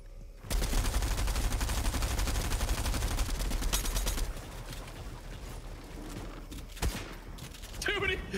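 Sustained rapid gunfire in a Fortnite match, a dense loud burst for several seconds that thins into scattered shots and game clatter, with players talking over it.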